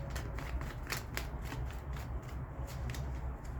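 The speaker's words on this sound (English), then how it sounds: "Okay, one last shuffle." Tarot cards being shuffled in quick riffling bursts, a steady papery flutter with soft snaps, close and fairly quiet over a low background hum.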